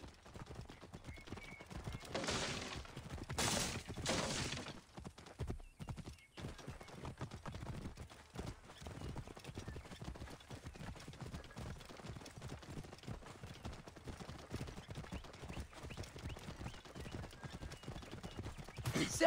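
Horses gallop in a race in Assassin's Creed Origins, with rapid rhythmic hoofbeats and neighs that are loudest early on, then settle into a steady, quieter galloping patter.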